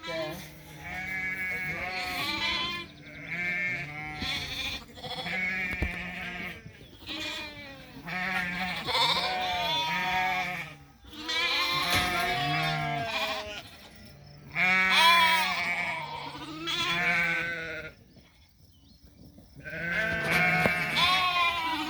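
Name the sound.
sheep bleating in a pen during sorting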